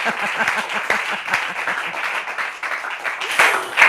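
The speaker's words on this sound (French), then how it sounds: "On peut applaudir le champion" Applause for the champion of a Bible quiz, a modest round of clapping from a small audience, fairly close and uneven, with a few stronger claps toward the end.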